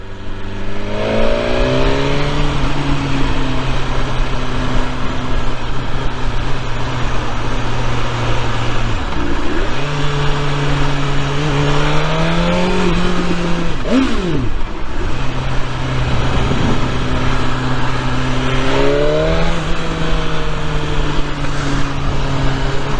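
A loud BMW S1000R motorcycle engine close by revs up and down repeatedly over a long stretch, exhaust pitch rising and falling in several surges with a steady rumble underneath.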